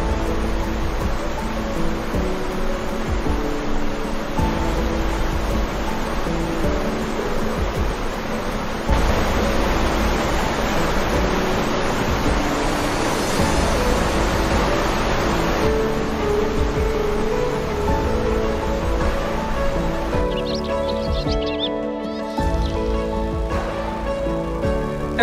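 Štrbački buk, a waterfall on the Una river, gives a constant, dense roar of rushing water that fills the whole stretch without a break.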